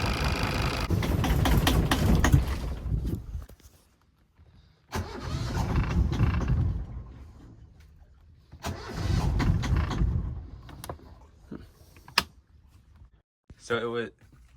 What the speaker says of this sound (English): the motor was starting fine and then dying right away